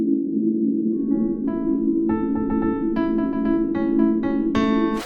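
White noise filtered into a bright chord, an A major triad, whose tones enter one after another and build into a dense, steady, sustained drone with a low hum beneath, ending on a brief brighter burst.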